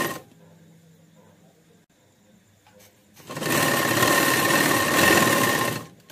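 After a quiet pause a sewing machine starts up and stitches the side seam of a burqa, a loud steady motorised whir lasting a few seconds before cutting off.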